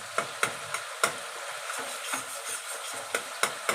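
Potatoes stirred into spiced gravy in a pan, with soft sizzling underneath and a series of sharp spoon scrapes and taps against the pan at irregular intervals, quiet and close.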